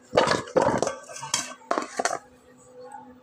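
Food being mixed with salt and turmeric by hand in a kitchen while preparing a Bengali bhaji, with a few close clinks and scrapes of dishes in short bursts, then quiet.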